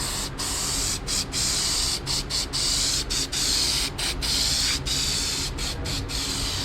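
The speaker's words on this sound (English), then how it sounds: "just spray this little can directly to your cabin filter" An aerosol antibacterial spray can hisses steadily for several seconds into a car's cabin filter, the spray cutting out for brief moments before continuing.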